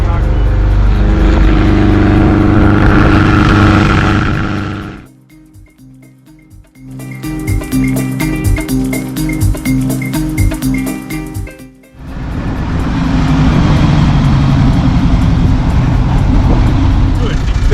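A Volkswagen Kombi van labours up a steep mountain road in second gear, its engine drone loud and close for several seconds, dropping to a quieter stretch in the middle before the strained roar returns.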